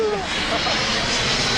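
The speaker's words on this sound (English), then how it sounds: "There's an airplane." An airplane roars past in a dense, steady wash of broadband engine noise, loud and close overhead throughout, with faint voices beneath.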